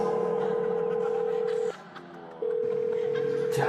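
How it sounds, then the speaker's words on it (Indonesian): A telephone gives off a loud, steady electronic tone that cuts out for under a second and then resumes, heard close with no talking. "Jangan angkat telepon itu."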